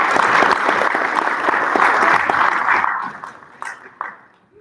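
An audience at a school board meeting applauds a student-of-the-month honoree, dense steady clapping from a roomful of people that thins out and fades over the last seconds.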